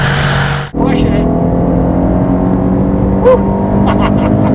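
A 2018 Aston Martin DB11 V8 accelerating on a race track, a loud, close engine drone that cuts out briefly after a gear change and then climbs steadily, with a voice briefly over it.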